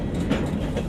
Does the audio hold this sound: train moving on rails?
yes